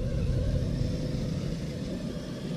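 An Axial SCX10 II RC crawler fitted with an Injora transmission driving along: a low, steady motor and gear whir with rumbling texture, close and continuous, fairly quiet, with no talking.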